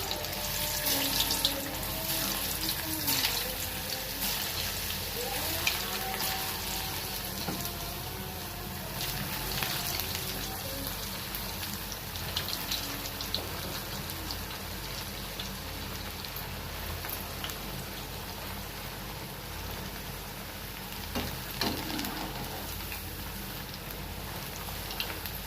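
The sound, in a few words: potato chips frying in hot oil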